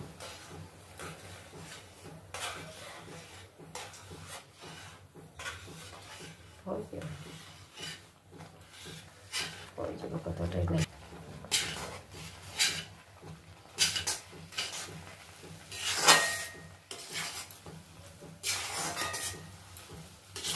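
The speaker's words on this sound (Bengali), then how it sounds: "সুজি দিয়ে দিব, একটু একটু করে দেব আর নাড়তে থাকবো।" Semolina being stirred in a pan: scattered scrapes and soft clinks of the spoon come in irregular bursts, growing louder toward the middle and end, while a person talks at times in between.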